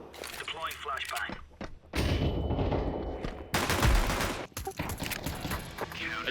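A flashbang grenade in a video game goes off with loud bursts, amid sharp gunfire-like bangs and players talking over voice chat.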